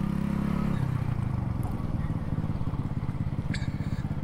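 A motorcycle engine runs steadily nearby with a low, throbbing idle and rhythmic pulses, loud and continuous with slight clatter and no clear talk.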